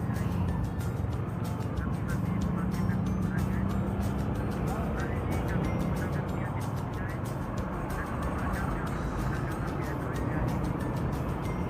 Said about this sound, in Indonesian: Oke, ramai sekali, padat lalu lintas.